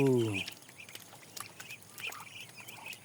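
A single short duck quack opens the clip at a duck competition in Khon Kaen, Thailand, and is followed by a low, busy outdoor murmur with faint high chirps.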